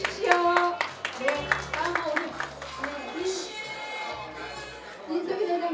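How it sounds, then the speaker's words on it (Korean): Hall audience claps for a prize winner at a year-end evening gathering of a hometown association in Incheon. Sharp hand claps patter along with chatter and a speaking voice throughout. "박수로 축하 좀 해주십시오."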